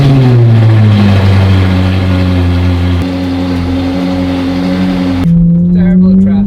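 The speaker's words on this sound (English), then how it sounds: "let's do a cold start real quick" A Ferrari 458 GT3 fires up from cold with a loud, steady high-idle drone, its pitch easing down slowly, then dropping abruptly to a lower settled idle near the end; close and dominant with no voices.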